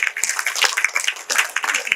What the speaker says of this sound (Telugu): క్లాప్ కొట్టండి సార్ మాకు గట్టిగా